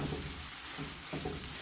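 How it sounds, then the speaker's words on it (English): Fried rice with roasted pork being stirred in a hot pan, a quiet continuous sizzle broken by a few soft scraping stirs, with no talk. "just kind of break this down into it and stir it up"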